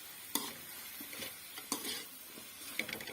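Boiled chicken being stirred into spaghetti in a pan, soft scraping stirs with a few sharp clinks of utensil on metal over a faint sizzle, quiet and close.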